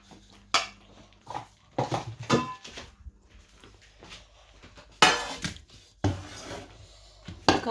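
Ground palmyra sprout paste for a thuvaiyal is scraped into a pan in bursts of clattering metal and scraping, with quiet gaps between the strokes.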